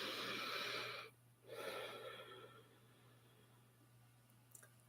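Deep, slow breathing during a tapping meditation: a long, close exhale, a short pause, then another breath that fades into quiet room tone.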